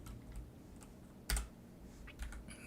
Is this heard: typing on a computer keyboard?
yes